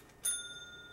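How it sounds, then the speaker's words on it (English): A single bell, likely a game or toy bell tied to a Jaguar rotary controller session, rings once with a bright metallic strike and a long sustained shimmer decaying slowly, fairly quiet and alone. "Atari, ring the bell"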